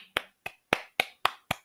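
Six sharp finger snaps ring out alone at a fairly even pace, each a crisp close click with a short decay, separated by brief silences.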